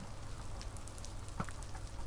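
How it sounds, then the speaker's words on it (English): Steady patter of rain falling in a video game, a continuous, moderately loud wash of drops with a few brighter ticks, no talk over it. "Too bad it's raining."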